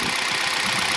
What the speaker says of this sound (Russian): бряканье поршневое присутствует, но оно очень слабое и еле заметное. Легкое тарахтение.